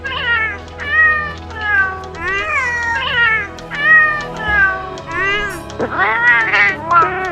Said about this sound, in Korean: 고양이 목소리 또 고를 수 있어요.